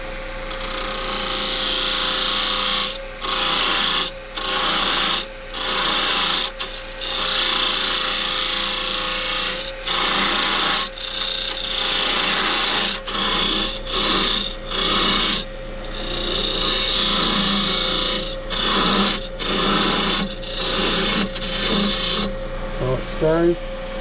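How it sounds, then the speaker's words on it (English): A wooden Christmas snowman being trimmed on a lathe, the tool rasping against the spinning wood in repeated bursts with short pauses between passes, loud and close over a steady motor hum. "So I'm just going to trim off some of the end here."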